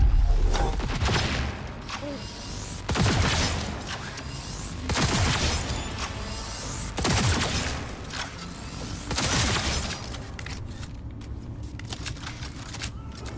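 Rapid bursts of gunfire in a chaotic Cyberpunk 2077 firefight, volleys breaking out every couple of seconds over a dense layer of explosions and mechanical clatter, loud and close throughout.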